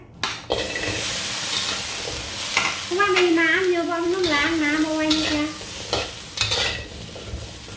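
Steady frying sizzle and stirring as chilies and fish fry in a hot pan, with someone speaking over it and a brief louder hiss midway.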